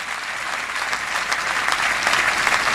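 A church congregation claps during a sermon, a dense burst of applause that swells slightly louder toward the end, with no speech over it.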